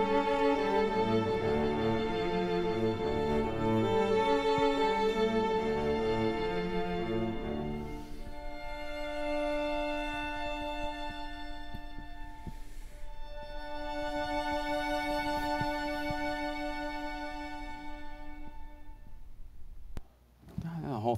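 An orchestral piece closes in sustained rich chords, settling onto a final major chord that rings on, fading slowly before cutting off near the end.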